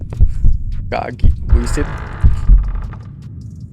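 A heartbeat sound effect from a horror video game throbs in low, repeated thumps at a slow rhythm, with a person speaking over parts of it.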